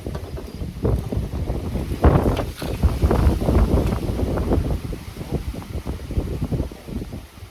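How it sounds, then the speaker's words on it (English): Strong wind blows outdoors, buffeting the microphone in loud, continuous gusts that swell and ease with no one talking. "The wind took it. Yeah, wind really just picked up."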